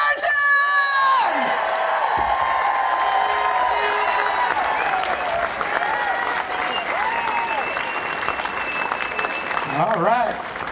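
A crowd at a Hands Off protest rally in Beaverton, Washington County, cheers, claps and whoops loudly for several seconds, with a voice on a loudspeaker carrying over the applause before it trails off.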